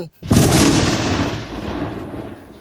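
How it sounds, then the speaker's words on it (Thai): A single loud gunshot in a Thai audio drama, booming out and fading into a long rumbling echo that fills the rest of the moment. "มึงยิงมาเลยหนึ่งไอ้หนึ่งมึงยิงดี มึงยิง"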